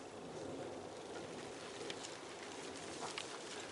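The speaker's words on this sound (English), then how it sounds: "It's raining, I'll be back in a minute." Steady rain falling on a square-foot garden leek bed, a faint, even hiss of drops with occasional brighter patters and a soft bird coo in the background, no talk.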